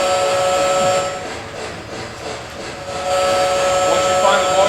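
A LionChief Plus model train sounds its whistle, a sustained steady tone that holds throughout and swells louder in the last second and a half, with a continuous mechanical hiss beneath it.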